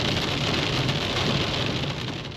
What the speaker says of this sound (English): right when I left my first location and got in the car, hail started falling from the sky,